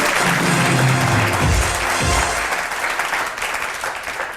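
Audience applause for a dholak player at a televised comedy show, a dense, steady wash of clapping that fills the whole stretch with some low musical rumble underneath at the start.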